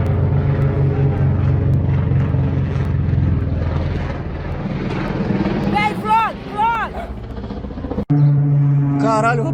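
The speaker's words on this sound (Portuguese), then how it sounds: "Mano, olha o avião caindo, velho." Engine of a falling airplane, a loud droning roar that dips and then swells again, with swooping rising and falling tones and excited voices shouting over it.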